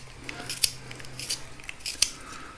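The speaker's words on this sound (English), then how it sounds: "Once it's in there, the entire assembly just rotates and you start sharpening the pencil." A flat carpenter's pencil grinds in a rotating sharpener, giving quiet scraping and a few sharp crisp clicks as the assembly turns, close and fairly soft.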